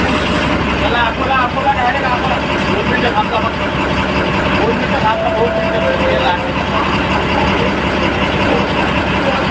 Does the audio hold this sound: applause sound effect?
no